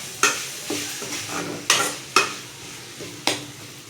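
Tomatoes sizzle in oil while a spoon scrapes and knocks against the pan in irregular strokes, close and fairly loud.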